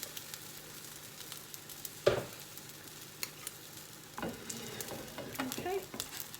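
Sweetcorn fritters frying in hot oil in a pan, giving a steady low sizzle with sharper crackles and a louder burst of spitting as batter goes in, close by and without talk.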